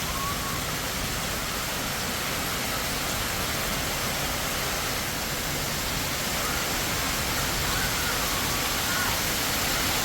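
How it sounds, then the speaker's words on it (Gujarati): Rain pours down outdoors on a farm on a stormy day, a dense, even roar of falling water that holds loud and unbroken for the whole stretch, with no voices over it. "આજ વરસાદ આવ્યો બોલો"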